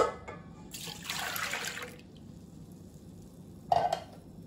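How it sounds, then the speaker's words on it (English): Milk is poured into a mixer bowl for croissant dough, a quiet splashing pour lasting about a second, followed by a small drip in an otherwise hushed room. "She's going to add the milk first"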